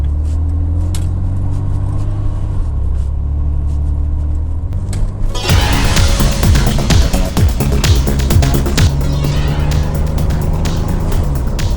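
Cabin road noise inside a 1994 Chevrolet S10 Blazer travelling at about 45 mph, a steady low rumble that surges louder and rougher halfway through, with no talking.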